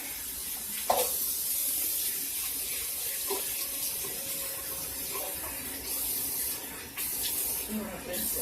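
Tap water runs steadily into a sink while a face is rinsed during a microdermabrasion facial, with a constant broadband splashing wash and a few brief louder splashes.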